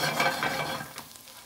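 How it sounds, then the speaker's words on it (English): Pieces of country ham sizzle and get stirred around in a hot pan, a loud close frying hiss with scraping movement that tapers off near the end. "We're gonna actually add our ham back to the pan."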